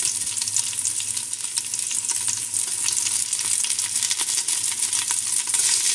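Garlic hisses in hot olive oil for chicken adobo, a continuous bright sizzle with intermittent stirring clicks, close and unbroken by speech.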